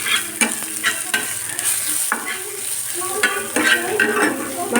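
Onions frying for beresta in a pan, a continuous crackling sizzle punctuated by repeated scraping stirs and light clinks.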